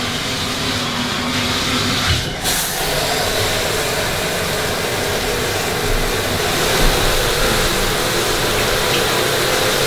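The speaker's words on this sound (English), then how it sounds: "That's a good, hot, very powerful shower." A hot, very powerful shower runs at strong water pressure in a motel room in Clearwater, Florida, a loud steady hiss of spraying water throughout with no talking.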